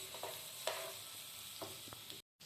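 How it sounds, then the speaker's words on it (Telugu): Ginger garlic paste frying in a pan gives a faint, steady sizzling hiss, with a few soft spoon scrapes as it is stirred, and no voices. "సో పచ్చివాసన అయ్యేంత వరకు దీన్ని వేయించుకోవాలి."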